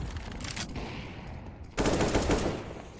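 Gunfire in the video game Counter-Strike on the Dust 2 map, a dense burst of rapid shots that jumps louder partway through, with no voices.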